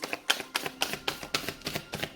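Tarot cards being shuffled during a twin flame reading, a rapid series of crisp papery riffles and slaps in a steady rhythm, close and moderately quiet with no voice over it.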